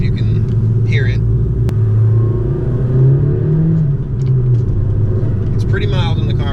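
A Honda Civic idles with its left muffler removed, a steady low exhaust rumble running throughout alongside voices talking.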